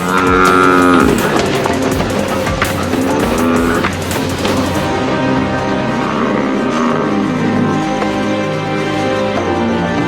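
An African buffalo being hunted by lionesses in the wild bellows and grunts loudly amid a dense, continuous rumble of struggle that fills the whole stretch.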